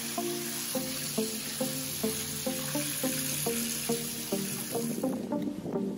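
Steady rushing water runs from a tap fed by a pump from a plastic drum tank, accompanied by a rhythmic mechanical pulsing hum, continuous throughout with no talking.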